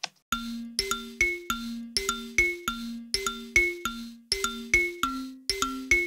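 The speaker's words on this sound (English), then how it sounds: "we added a, it's a called Mbira. It's an, I think it's African thumb piano." An mbira, the African thumb piano, plays a steady run of bright plucked notes with ringing metallic tines, each one decaying quickly. The pattern is rhythmic and close up, layered into a remix beat with no talking.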